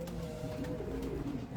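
Soft, low pigeon coos roll in short repeated phrases at close range, faint and steady with a light background hum, no talking.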